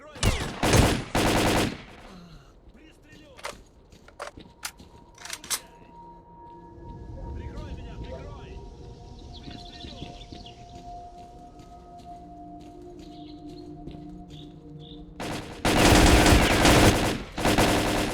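Automatic gunfire in the S.T.A.L.K.E.R.: Clear Sky video game aimed at the player, loud sharp bursts at the start and again near the end, with scattered single shots and rustling between them.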